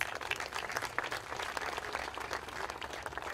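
An audience at the India Golf Awards ceremony applauds an honoree with quiet, even, continuous clapping. It sounds somewhat distant and stays steady from start to finish.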